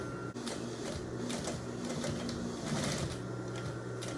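Sewing machine stitching an apron, a quiet steady rapid mechanical chatter of the needle running continuously at a moderate pace.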